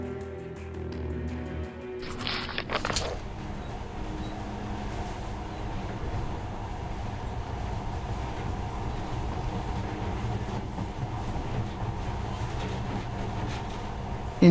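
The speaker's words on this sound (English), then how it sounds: "In the past, trains were ordinary things, but now, this monorail seems magic, doesn't it?" Monorail train from the video game Metro Last Light running steadily, a continuous low rumble and rolling hum with faint rattling, loud and close throughout after a brief sharper clatter near the start.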